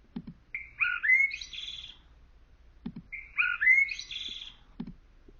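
A blackbird sings two matching phrases, each a quick flourish of whistled, warbling notes preceded by a soft low click, heard twice with a pause between over a quiet, faintly noisy background.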